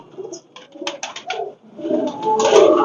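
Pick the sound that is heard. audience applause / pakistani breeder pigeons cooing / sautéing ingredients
pakistani breeder pigeons cooing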